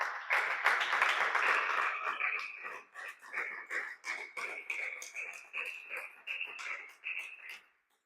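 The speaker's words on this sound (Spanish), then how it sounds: "¿Cuántos dan un aplauso al Señor?" A church congregation claps and cheers fairly faintly, a dense burst of applause that thins into scattered, uneven claps before fading out.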